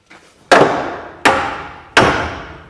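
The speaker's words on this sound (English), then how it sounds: "give that a whack with a hammer and that drops straight in" A sledgehammer strikes a part on a vehicle axle three times in a steady rhythm, each sharp metallic bang close and loud, ringing briefly before the next whack.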